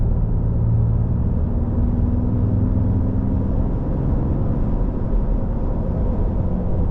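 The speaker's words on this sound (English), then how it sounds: "Can definitely hear the turbo a little bit more over without, I mean, with the baffle in it." Steady low engine rumble from a 2019 Ram 2500 Cummins diesel pickup on the road with its intake silencer removed, with a faint turbo whistle riding over the drone throughout.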